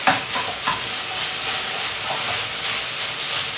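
Vegetables (ivy gourd poriyal) sautéing in a pan until dry, giving a steady loud sizzling hiss close up throughout, with a few faint clinks and no talking.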